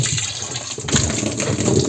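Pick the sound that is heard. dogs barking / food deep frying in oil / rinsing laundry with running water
rinsing laundry with running water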